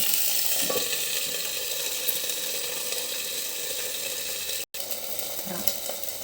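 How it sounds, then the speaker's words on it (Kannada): Tomato frying in a little oil in a pan makes a steady, moderately loud sizzle with faint stirring. It breaks off for an instant near the end, then picks up again. "ಈಗ ಟೊಮೊಟೊ ಹುರಿತಾ ಇದ್ದೀನಿ"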